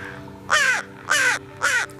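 A crow caws three times in a steady rhythm, each harsh call clear and fairly loud against a faint steady hum, with short pauses between calls.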